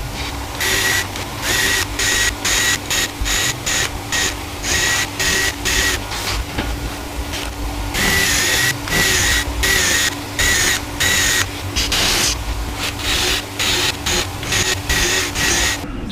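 A drill bores a 4mm hole in a subwoofer box for a Rockford Fosgate T1S1-12, buzzing in rapid repeated bursts with short gaps, close and loud throughout.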